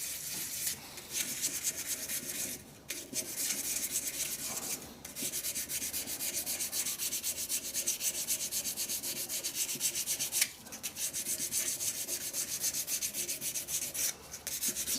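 A turned wooden shaving brush handle being sanded by hand, close and steady, with a continuous rubbing scratch broken by a few short pauses as the grip shifts direction.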